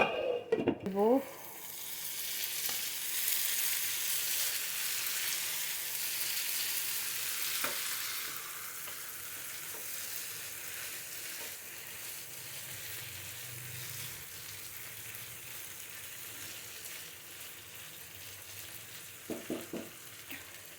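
Potatoes for aloo dum sauté in a pan over a lowered flame, giving a steady close sizzle that is louder for the first several seconds and then settles softer, with a few utensil clatters at the start and end and no talking.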